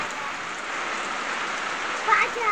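Steady rain pattering on a surface, a continuous even hiss with a brief louder splash near the end.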